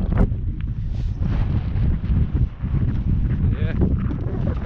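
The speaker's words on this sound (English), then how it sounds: "This wind's only going to be intermittent." Gusty wind on an exposed mountain top at night during a bivouac on Puig Tomir, buffeting the microphone with a low, steady rumble and roar.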